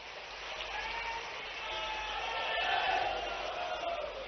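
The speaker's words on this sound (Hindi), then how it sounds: "जोरदार ताली बजाओ।" An audience at a political event in Bhopal applauds, the broad clapping heard faintly and at a distance as a continuous wash that swells slightly midway.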